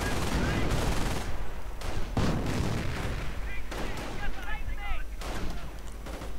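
Video game battle with Panzerschreck rockets striking a Cromwell tank: dense, continuous booms and cracking gunfire with repeated impacts, loud and close throughout, over a constant rumbling battle bed.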